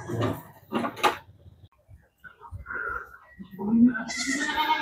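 Goats bleat several times nearby, with someone talking between the calls.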